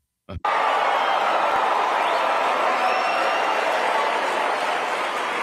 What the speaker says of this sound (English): But the majority was claps.